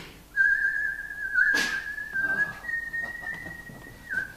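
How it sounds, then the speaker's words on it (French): A young girl's recorded whistle holds one long, clear, fairly steady note with small pitch wobbles, with faint background rustles and a brief burst of noise partway through. "Écoutez-la siffler, cette gamine."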